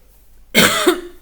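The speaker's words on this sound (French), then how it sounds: "excusez-moi, j'ai de la toux" A single sharp cough breaks a near-silent moment, close and loud, with a short second burst at the end.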